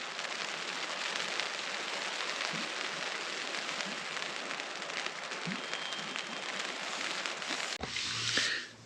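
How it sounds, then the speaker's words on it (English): Steady rain patters on a tent at dawn near Jade Lake in Washington's mountains, a dense continuous hiss with scattered louder drops, close and even, then a brief rustle near the end. "So now it's decided to rain."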